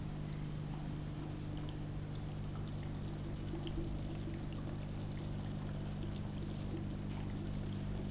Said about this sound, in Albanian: E lëshojmë furnizuesin me oksigjen që të përzihet ujë.